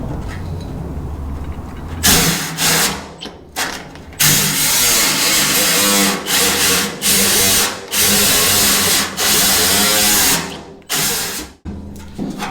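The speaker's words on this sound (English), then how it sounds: "you can sandwich the plate between the two, and it'll sand both sides at the same time" A drill spins a sanding setup clamped on both faces of a metal plate for a fuel tank build, a loud, continuous grinding whine that surges and drops in bursts with brief pauses between passes.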